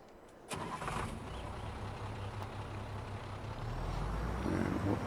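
A farm truck's engine cranks and fires up, settling into a steady, loud low rumble that builds slightly toward the end, heard close from inside the cab.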